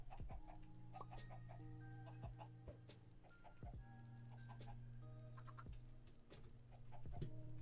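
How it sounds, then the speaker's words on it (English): Chickens cluck repeatedly in the Minecraft video game, a crowded pen of short, closely spaced clucks and squawks over a low steady hum, fairly quiet and without talk. "there's too many chickens in here."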